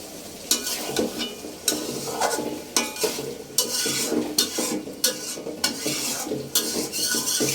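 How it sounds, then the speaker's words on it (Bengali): Chicken liver tipped into a pan of cooked-down spices and stirred, a close, busy sizzle broken by repeated sharp clinks and scrapes of a utensil against the pan, with no talking. "এখন আমি কলিজা দিয়ে দিব।"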